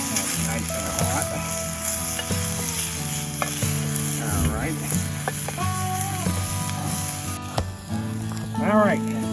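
Peppers and onions sizzle steadily in a hot pan over a campfire, a continuous frying crackle with occasional stirring scrapes, while voices talk intermittently nearby.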